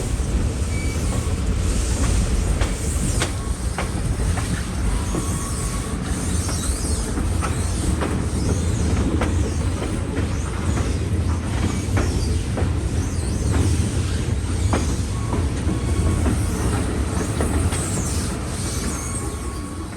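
A scenic train rolls along the rails beside a river in Tennessee, with a continuous heavy rumble, rhythmic clacking and occasional wheel squeals up close.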